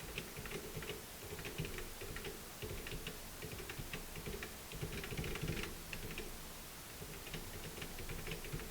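Computer keyboard keys pressed while playing a horror-themed game jam entry, a steady run of light clicky taps at close range over faint background hum, with no talking.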